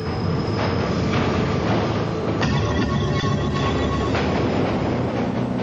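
A subway train rumbles steadily through a tunnel with a dense, continuous roar, faint rhythmic wheel clatter and brief metallic squeals rising over the noise.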